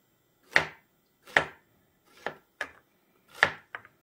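A kitchen knife chops food on a cutting board while sundubu-jjigae ingredients are prepared, giving six crisp, evenly spaced thuds close by with silence between them and a quick double cut at the end.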